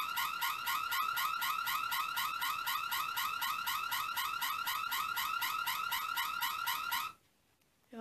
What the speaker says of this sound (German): Und wenn man die mal aufmacht, dann geht ein Alarm los.